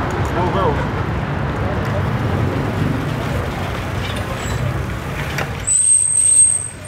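On a busy street in Hanoi, road traffic rumbles steadily, a vehicle's air brakes let out a sharp hiss near the end, and voices murmur faintly in the background.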